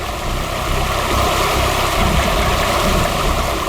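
Steady, dense rush of a waterfall heard up close, a continuous broadband roar holding at an even, loud level with no voices over it.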